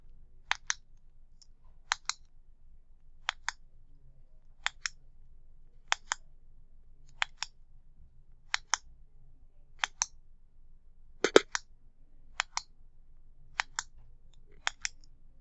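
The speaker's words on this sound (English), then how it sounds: "You might have guessed clicking a pen." Sharp double clicks of a pen repeat at a steady pace, about a dozen in all, close and crisp against near silence.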